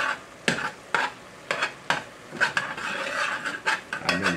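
Ground meat browns in a pot over medium-high heat, with a steady sizzle and regular scraping, rasping strokes of a stirring utensil roughly every half second, close and loud.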